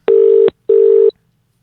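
A telephone rings on a call line in two loud, even electronic bursts separated by a short gap, followed by silence.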